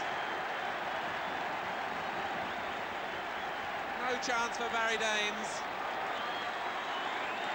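A football crowd at Ayresome Park roars and applauds a goal, heard as a dense, distant wall of cheering and clapping. A commentator talks briefly over it.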